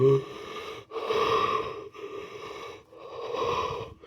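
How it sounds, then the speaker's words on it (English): Loud, raw breaths come close to the microphone in four long drawn-out cycles, each a rough, wheezy inhale or exhale separated by brief pauses, with no speech. "as I just literally was breathing for like a whole like 5 seconds, like raw breathing"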